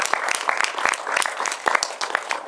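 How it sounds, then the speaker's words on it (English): Audience applause for a woman named Leshmi at a leadership training event, a dense, steady patter of many hands clapping close by, continuous for a few seconds with no speech over it. "big round of applause for her."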